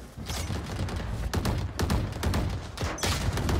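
Rapid bursts of gunfire in a PC shooter game, dense and loud, crackling shots arriving in clustered volleys with brief gaps, close up and filling the whole stretch without talk.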